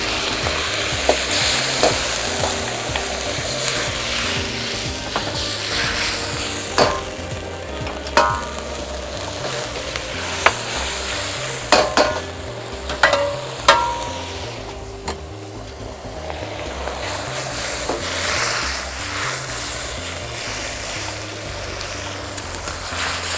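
Shrimp stir-fry sizzling in a hot pan as sauce goes in, with steady frying hiss, a few sharp clinks and scrapes of a utensil against the pan, and no voices.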